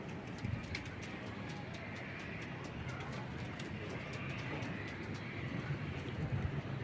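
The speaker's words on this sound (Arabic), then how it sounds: "بصوا الحمام بيعمل ايه." Pigeons coo softly inside a ventilated loft, with faint, repeated low calls over a quiet background hum and no talking.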